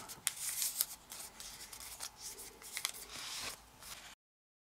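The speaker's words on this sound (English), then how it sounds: "fold in half." Origami paper folded in half produces soft crinkles and sharp creasing swipes, close and quiet, in a few irregular bursts before stopping.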